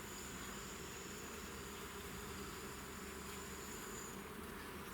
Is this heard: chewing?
no